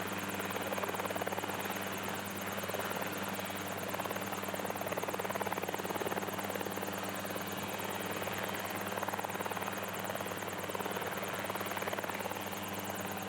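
Helicopter fitted with an attached flight-training device flies steadily nearby, its loud continuous rotor and engine drone holding level throughout with no talk.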